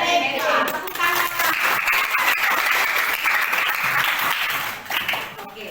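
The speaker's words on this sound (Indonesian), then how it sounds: "Tepuk tangan." Seventh-grade students clapping hands together in a school classroom: a loud, close burst of scattered applause lasting several seconds, with a few young voices mixed in before it fades.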